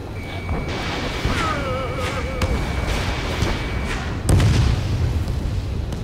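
Explosions from destroyed targets such as an anti-aircraft gun in the combat flight game Ace Combat 7, with a heavy boom landing near the end over continuous engine and battle noise and radio chatter.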